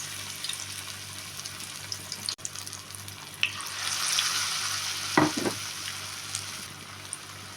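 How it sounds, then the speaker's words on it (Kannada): Battered vegetables dipped and dropped into hot oil, fizzing in a steady low sizzle with brief louder crackles and bubbling bursts midway as pieces hit the oil. "ಇವಾಗ ಎಣ್ಣೆ ಕಾಯ್ದಿದೆ ನಾನು ಆವಾಗಲೇ ತೋರಿಸಿದ್ನಲ್ವ ಅದೇ ಥರ ಇದನ್ನು ಈ ಥರ ಡಿಪ್ ಮಾಡ್ಕೊಂಡು ಹಾಕಬೇಕು"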